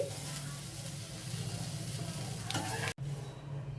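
Cauliflower florets sizzle steadily in hot oil with a little salt and turmeric, a constant close frying hiss with faint stirring, cut by a brief drop near the end before the sizzle resumes.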